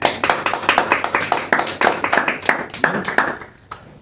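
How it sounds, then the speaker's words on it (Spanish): A congregation claps during a Catholic talk, a fast rhythmic run of distinct, fairly loud hand claps that thins out and fades near the end, with faint voices underneath. "vamos un fuerte aplauso a nuestro Señor Jesús"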